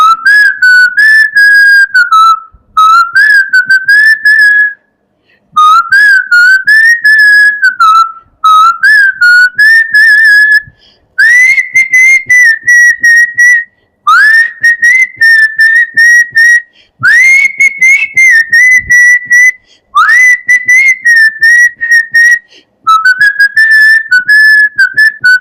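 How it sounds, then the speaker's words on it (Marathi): Someone whistles a song tune, loud and close, in a series of long sustained melodic phrases separated by short breathing pauses, with no other sound. "मी शिट्टीतून गाणं म्हणून दाखवणार."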